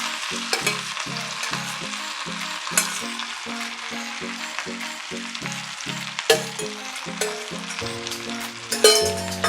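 Boiled vegetables and broccoli hissing on a hot chicken sizzler plate, a continuous bright sizzle with a rhythmic series of low tonal pulses and a few sharper crackles near the end.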